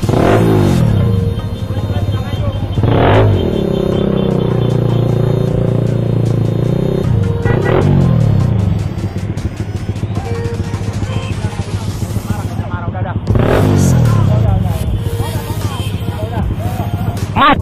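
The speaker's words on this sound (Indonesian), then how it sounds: "Macet di sana bro, sama-sama macet kita." Cars and motorcycles crawl through a traffic jam on an Indonesian street, with constant engine rumble close by and a few louder passing roars and revving surges, occasional rattling mixed in.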